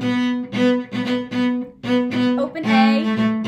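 Cellos play Danza Espanola from measure 18: a sustained, bowed ensemble line with rhythmic, accented note groupings, loud and full, with no speech.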